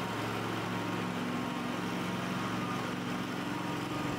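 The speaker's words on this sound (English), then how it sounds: "Once the engine is started, warm up the machine for approximately 30 seconds, and when the pad begins to spin, lower the burnishing head to the floor" A propane Pioneer Eclipse 440BU floor burnisher's engine runs at a steady, even drone with a low throbbing hum, constant and moderately faint, with no talk.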